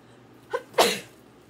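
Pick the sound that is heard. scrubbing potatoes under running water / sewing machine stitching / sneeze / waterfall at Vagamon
sneeze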